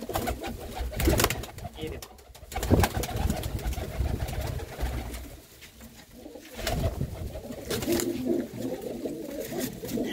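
Pigeons coo repeatedly in a loft among kept birds including a blue-red barred hen, with someone talking over them and some handling noise throughout.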